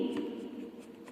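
Chalk or marker scratching across a classroom board as a teacher writes out a Hindi word, a steady close scraping with a few brief strokes and no talk over it.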